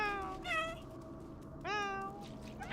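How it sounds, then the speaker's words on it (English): Cat meowing in the video game Stray: two clear, drawn-out meows a second or so apart, fairly close and moderately loud over a quiet background. "Meow."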